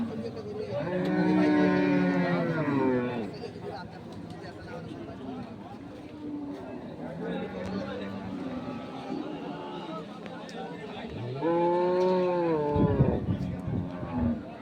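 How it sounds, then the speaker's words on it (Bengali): Dairy cows and calves of Sahiwal, Sindhi and local breeds at a village cattle market, with deep, drawn-out moos near the start and again toward the end. Murmuring market voices fill the gaps between the calls. "আমরা এখানে একটি গরু দেখছি"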